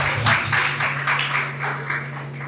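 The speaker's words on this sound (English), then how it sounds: "Let's clap." An audience at a Nigerian political gathering claps, with a broad, steady wash of applause and a low steady hum underneath, and no speech over it.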